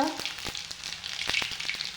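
Cumin, mustard seeds, garlic paste and coriander crackle and sizzle in hot oil close up, with sharp pops scattered over a steady frying hiss.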